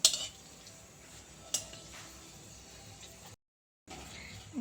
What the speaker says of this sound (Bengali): দারচিনি দিচ্ছি, তারপর দুটো ছোট এলাচ আর দুটো লবঙ্গ দিয়ে এটাকে যতক্ষণ না স্মেল আসে হালকা করে নাড়াচাড়া করব